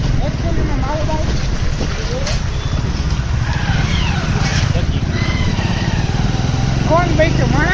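A motorbike on a long ride drones at steady speed with heavy wind rush against the microphone, loud and continuous, while riders talk over the engine.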